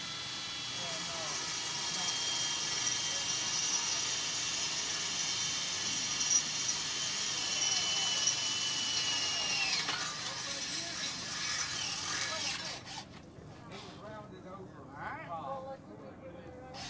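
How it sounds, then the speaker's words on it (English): A drill bores a hole through a metal solar panel mount on a custom van roof rack, a steady high whine running for about ten seconds before winding down into scattered clanks and handling noise. "try to find the hole on there, and we're going to drill one now"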